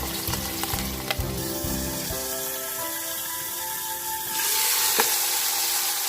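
A pork roast sizzles and fries as it browns in an Instant Pot Ultra 60, with a steady crackle and a metallic clank as the meat is turned, loud and close.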